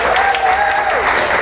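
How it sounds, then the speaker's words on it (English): An audience at a live broadcast applauds Charlene Alberto, a grantee, with a short, full burst of steady clapping and a faint voice riding over it. "Can we get a round of applause for Charlene?"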